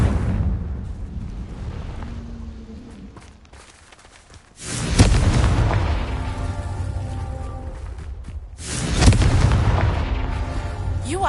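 Confringo fire spell blasting in Hogwarts Legacy, heard as two loud booming bursts with rumbling decay and whooshing combat noise in between.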